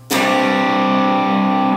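A single distorted electric guitar chord played without the third is struck once and left to ring, loud and sustained with a gritty, buzzing tone, fading slightly at the end.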